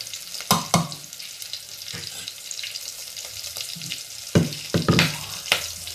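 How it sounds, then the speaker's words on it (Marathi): Mustard seeds, hing and green chilies crackle in hot oil for sambar tempering, a steady sizzle broken by sharp popping bursts, close and fairly loud. "बघा फोडणी चांगली बसली आहे"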